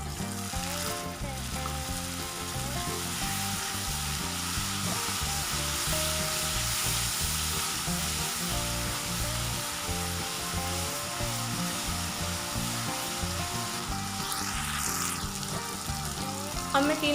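Potatoes and eggplant fry in a pan for an aloo baingan sabzi after a sprinkle of water, giving a steady, loud, continuous sizzle with faint stirring scrapes throughout and no talking.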